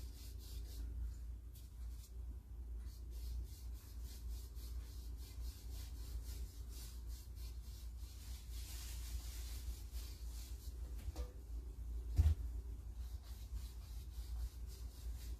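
A rag rubs Rub and Buff metallic wax onto a decoupaged Halloween tray, a faint, soft, continuous scrubbing with one brief louder knock near the end.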